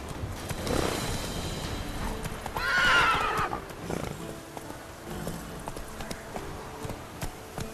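A horse gives a loud, near whinny while hooves clip-clop across ground, with rumbling movement noise around it.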